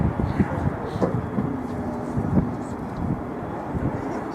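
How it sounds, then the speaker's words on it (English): A steady aircraft engine drone with wind rumble, an Airbus A400M propeller plane making a slow display fly-past at moderate distance at RIAT 2014, engines throttled back, with a voice faintly talking over it. "The engine will throttle back and the flaps will be lowered."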